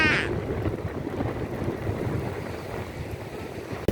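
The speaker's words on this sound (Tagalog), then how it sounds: "Malakas ang hangin?" Strong wind at the Kapurpurawan rock formation roars and buffets the microphone in a low, continuous rumble, loud and unbroken throughout.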